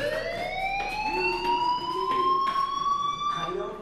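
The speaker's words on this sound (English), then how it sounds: "do you hear that fire alarm? That means you should be outside." A fire alarm wails steadily in the Life is Strange video game, a loud continuous tone holding throughout with faint background game sounds underneath.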